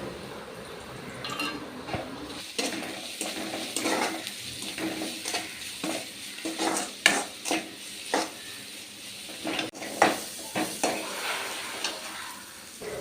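Vegetables for a simple, healthy fried rice are stir-fried in a pan. A steady sizzle runs beneath repeated rhythmic scrapes and clacks of a spatula, close and moderately loud.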